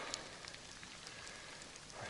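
Steady rain falling among the ruins of an abandoned village of old houses on Kefalonia, a dense continuous patter with scattered close drops hitting surfaces.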